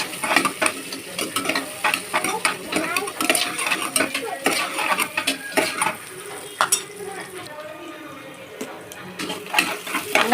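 Onions, curry leaves and green chilies fry in oil as a spoon stirs them briskly, with busy scraping and clinking against the pan over a constant sizzle that quiets slightly near the end.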